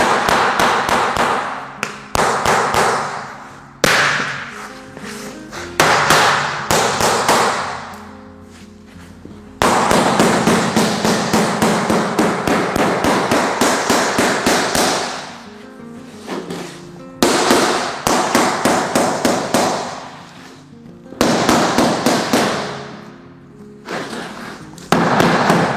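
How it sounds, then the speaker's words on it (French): Hammer strikes on a parquet floorboard, tapped through a scrap offcut or tapping block to clip the board in, sounding as loud, close, sharp knocks in rapid bursts separated by short pauses. "n'hésite pas à prendre une cale martyre ou un morceau du parquet que tu as coupé et venir le marteler des coups de marteau"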